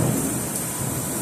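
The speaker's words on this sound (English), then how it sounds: "Thunder is really loud." Loud, continuous thunder rumbles through a heavy thunderstorm, blended with steady rain, dense and close with no pauses.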